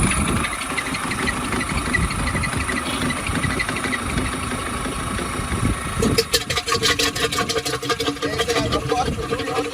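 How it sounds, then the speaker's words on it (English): A SureMix pump machine starting up and running, a steady loud mechanical engine drone with vibration, shifting into a faster rhythmic chugging pulse partway through. "I'm going to start the machine."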